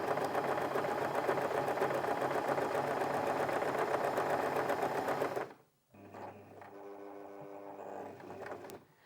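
Janome J3-24 sewing machine stitching a buttonhole, a steady close whir of rapid stitching for about five seconds, then a brief stop and a slower, softer run with a lower hum.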